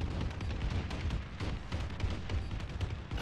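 Rolling bombing-run explosions in Call of Duty Advanced Warfare, a dense, continuous barrage of booms and blasts filling the whole moment at steady loudness with no talk.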